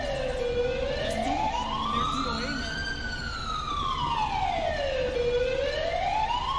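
A wailing ambulance siren in the video game GTA 5 sweeps slowly up and down, loud and steady throughout, with a second tone layered above.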